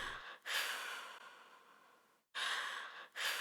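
Heavy breathing from a horror-style video game, with drawn-out breathy exhales and sharp inhales coming in uneven bursts separated by brief silences, close and clear.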